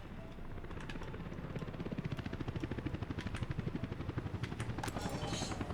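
A fire helicopter in the city-building game Workers & Resources: Soviet Republic gives off a steady, close, loud rotor chop, its rapid pulsing beat rising and strengthening over several seconds.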